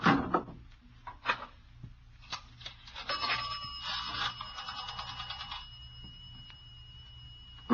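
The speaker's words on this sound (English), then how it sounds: "I'm going to call in from the phone on the dock." An old telephone on a dock is picked up and used to place a call, with faint clicks, rattles and a thin ringing tone over quiet background noise.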